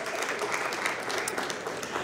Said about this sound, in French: Là, vous applaudissez.